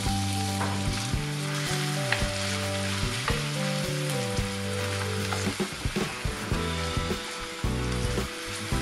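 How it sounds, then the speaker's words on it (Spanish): Onion frying in olive oil in a pan over medium heat, a loud, steady close sizzle throughout with stirring scrapes and clinks of a utensil against the pan. "Incorporamos la cebolla y sofreímos a fuego medio hasta que cristalice."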